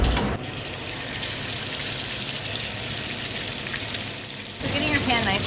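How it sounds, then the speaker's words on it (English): Salmon sears in a very hot restaurant pan with a loud, steady sizzle that runs continuously, shifting briefly toward the end as the fillet is moved or the pan is handled. "Pan nice and hot sears the salmon and ensures that you're going to get a nice crispy"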